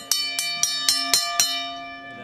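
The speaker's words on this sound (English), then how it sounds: "I think we're ready to ring the bell." A bell at a college spring football game is rung six times in a quick, even rhythm, bright metallic clangs ringing on and fading out after the last strike, close and loud.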